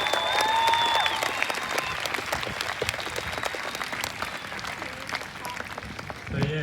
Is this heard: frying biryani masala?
no